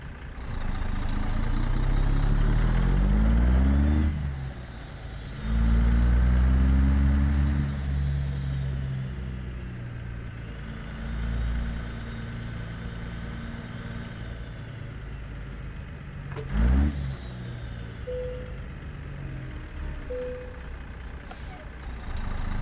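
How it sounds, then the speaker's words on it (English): A Calico Creek Ruda glider truck with a turbo engine, pulling a Remtec tanker in American Truck Simulator, revs loudly through rising gear pulls and then settles to a lower drone, with a brief sharp hiss partway through. "You can hear a bit of turbo in this one"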